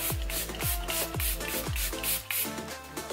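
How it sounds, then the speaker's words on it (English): Makeup setting spray is misted from a drugstore bottle in about six quick, evenly spaced hissing bursts, close and fairly faint, with no talking. "I will say this spray is also much more fine than this one."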